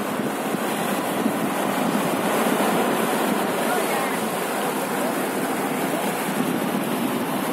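Ocean surf rolls in at a beach at Barra da Lagoa in Brazil, a steady loud wash of breaking waves with wind buffeting the microphone and no clear talk.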